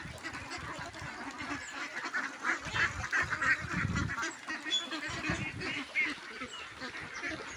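Ducks on a farm pond stocked with fish below, quacking and honking faintly in an uneven, overlapping stream of calls at some distance.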